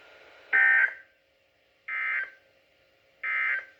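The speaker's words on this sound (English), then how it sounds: "This concludes this week's warning alarm test." Emergency Alert System weekly test tones: three loud, buzzy two-tone bursts, each about a third of a second long, spaced evenly with silence between them and no voice over them.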